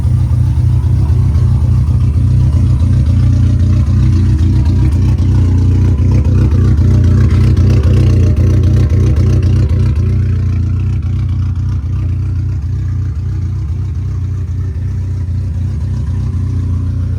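A Dodge SRT-4 turbocharged four-cylinder running after a new stage 3 clutch install, a loud, steady low rumbling drone close by, holding fairly even before easing slightly lower toward the end.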